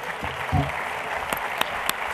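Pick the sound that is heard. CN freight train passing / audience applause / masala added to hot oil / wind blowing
audience applause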